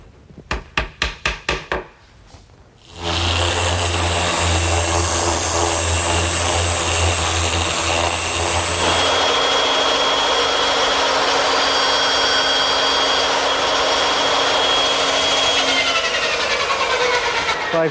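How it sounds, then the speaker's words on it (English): A power saw cutting a wooden shelf bracket in a workshop: a few short bursts, then the motor spins up to a loud sustained whine through the cut before tapering off as it winds down. "So I've just cut one of the brackets that goes underneath the shelf beneath the mirror."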